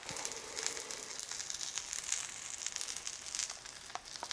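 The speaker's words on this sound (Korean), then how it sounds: "지금 문어에 물기가 있어가지고 이렇게 팡팡 튀기고 있거든요. 이 소리가 나야 됩니다." Octopus frying over high heat in a pan of hot oil makes a soft, steady sizzle with scattered sharp pops from the moisture on the pieces, faint and close.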